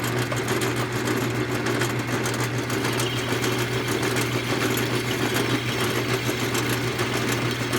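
A power drill bores into a metal bolt on a 2001 Toyota Corolla during timing set work, a bit of uncertain carbide or high-speed steel type; a steady, close, continuous motor whine with grinding texture runs throughout.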